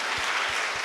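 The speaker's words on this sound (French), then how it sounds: "Et applaudissez pour lui." Applause from a church congregation during a sermon, dense and steady for a moment, filling the room without voices.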